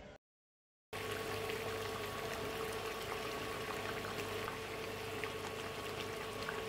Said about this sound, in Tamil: இப்போ குழம்பு நல்லா கொதிச்சிருச்சு.